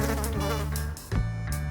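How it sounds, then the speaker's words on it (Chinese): A housefly buzzes close by indoors, a steady droning hum that continues through the whole short moment. "抓苍蝇。"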